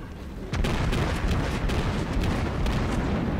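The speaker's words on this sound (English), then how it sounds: "Let's get another volley off." Naval guns on a warship fire a volley in a video game, opening with a sudden heavy blast and then rolling into sustained loud booming and rumbling that fills the rest of the clip.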